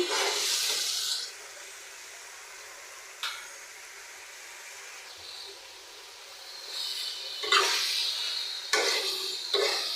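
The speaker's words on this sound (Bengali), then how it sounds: "আমি তরকারিটা ভালো করে কষায় নিচ্ছি" Vegetable curry stirred and fried in a pan, heard as a loud scraping sizzle at the start, a quieter stretch, then several more sharp stirring bursts near the end. No one speaks.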